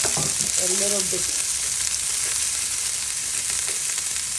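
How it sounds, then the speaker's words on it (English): Sliced onions sizzling steadily in a hot pan while making egg fried rice, a loud continuous crackle with a brief spoken word near the start. "Just let the onions caramelize just a little"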